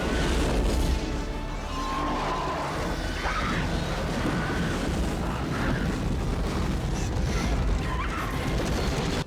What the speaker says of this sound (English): we're rolling out the airstrike.